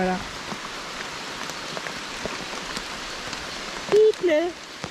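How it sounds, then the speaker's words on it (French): Steady rain patters on leaves and surfaces in a South American jungle, a dense, even hiss with scattered drips throughout, and a voice briefly speaks near the end. "Il pleut."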